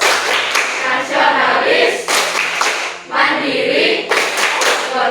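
A classroom group performs the rhythmic Tepuk PPK clapping chant, loud bursts of patterned hand claps mixed with voices chanting together in a school setting.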